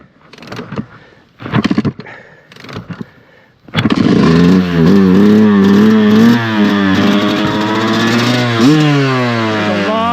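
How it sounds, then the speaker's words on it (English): A flooded 2025 Yamaha YZ250X two-stroke dirt bike coughs through several sputtering cranking attempts, then catches and roars to life with a loud, steady idle and rising throttle revs, close by. "What do we got to do to start up a bike that's been flooded?"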